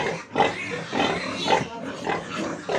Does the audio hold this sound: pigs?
yes